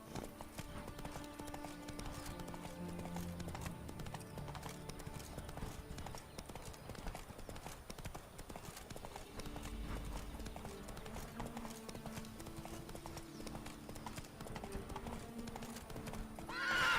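Roach, a horse in a video game, gallops in a continuous quick clip-clop of hooves with occasional neighs, over a busy game soundscape.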